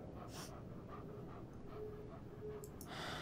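Mushroom the dog in Life Is Strange 2 panting close by, a quick rhythmic run of short breaths over a quiet outdoor background.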